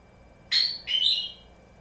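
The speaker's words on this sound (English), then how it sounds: "Is that bird loud, Bibi?" A pet bird gives two loud, sharp calls in close succession, each bright and ringing, standing alone over a quiet room.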